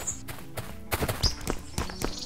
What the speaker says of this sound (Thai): ๆเมื่อกี้มีเสียงเท้าครับในบ้านนี้ชัวร